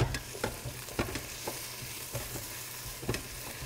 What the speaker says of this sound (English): So I want to stir it around and scrape the bottom to get all the browned bits from the bottom